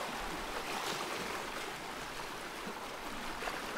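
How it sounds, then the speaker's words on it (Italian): Steady ocean surf around Alcatraz island, a continuous broad wash of waves and churning water with no pauses, fairly close and alone without voices. "Il rumore dell'oceano filtra ovunque"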